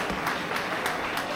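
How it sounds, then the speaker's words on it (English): Audience applause at a 10th anniversary gala dinner honouring the event's sponsors, a brief burst of steady clapping from a roomful of guests at moderate level. "please, a round of applause for the generous sponsors who made tonight possible"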